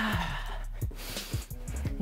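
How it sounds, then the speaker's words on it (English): Heavy, rhythmic breathing from a person during a HIIT warm-up, with repeated close puffs and exhales every half second or so, loud and near with no talk over it. "You hear that? You hear my breathing?"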